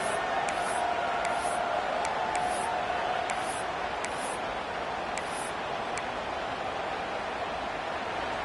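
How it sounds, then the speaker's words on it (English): A broad, steady wash of distant stadium crowd roar at a Penn State football game in Happy Valley, even and sustained, with faint repeated high clicks on top. "Here comes the noise from this big crowd"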